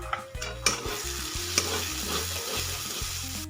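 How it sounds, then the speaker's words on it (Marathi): Spiced masala of coriander and cumin powder frying in oil, heard as a steady close sizzle with scraping stir strokes, a couple of sharp spoon knocks against the pan, and low rhythmic thumps underneath. "आपल्याला फक्त तेल सुटेपर्यंत ते परतून घ्यायचंय"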